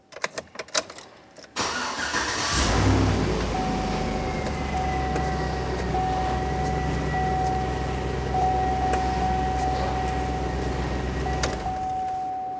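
A 2000-2006 Chevrolet Tahoe engine cranks briefly after a few clicks, catches and settles into a steady, close idle with a faint whine, running alone with no talk.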